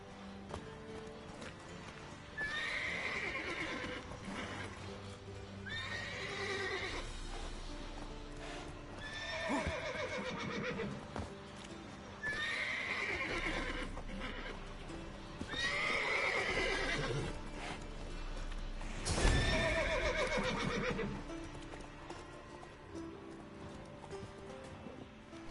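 Horses in The Witcher 3 video game whinny and neigh repeatedly, with clip-clopping hooves and restless movement between the calls, fairly close and clear.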